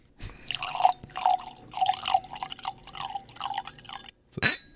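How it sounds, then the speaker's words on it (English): Wine pours into a glass in a living room, with several short gurgling splashes in bursts and then a sharp clink near the end, close and without speech. "May I pour for you?"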